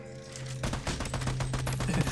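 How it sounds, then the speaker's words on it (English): Gunfire in the video game Army of Two, a dense burst of rapid automatic shots that starts abruptly after a quiet moment and continues loudly to the end. "Now your bullets affect him from the front."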